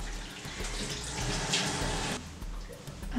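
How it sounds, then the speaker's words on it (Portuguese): Tap water runs steadily into a sink while someone rinses their face, a close, even splashing hiss that cuts off near the end, with no speech. "Agora eu vou enxaguar."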